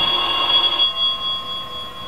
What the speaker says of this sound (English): answer the door and the phone when it rings